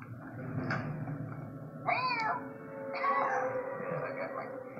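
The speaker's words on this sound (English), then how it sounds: "I thought I just heard cat." A cat meows a few times, short rising and falling cries standing out over background voices and room noise, fairly faint.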